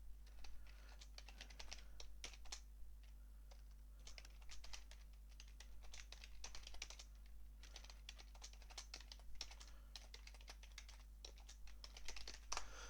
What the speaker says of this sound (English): I'm just typing out my D&D message.